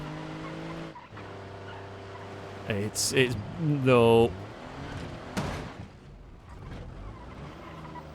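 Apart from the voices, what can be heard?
struggling car engine and skidding tires in BeamNG Drive video game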